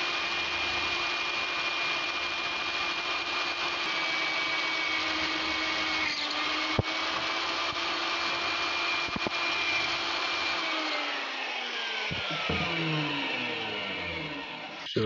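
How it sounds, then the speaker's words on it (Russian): An electric drill slowly bores a hole through a piece of duralumin clamped in a vise, giving a steady, fairly loud motor whine that holds for several seconds, then drops in pitch as the drill spins down near the end. "И потихонечку просверливаем отверстие."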